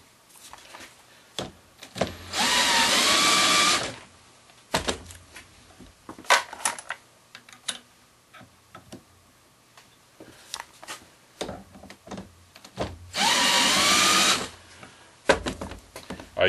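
Two bursts of a power drill spinning a trimmer to cut .223 brass cases down for .300 Blackout, each lasting under two seconds, loud and close, with light clicks and handling of the cases between them.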